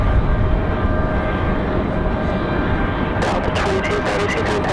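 A Delta airliner departs Raleigh-Durham airport on New Year's Day with a loud, steady broadband jet roar. Sharp crackling bursts cut in toward the end as the engines rumble at full power.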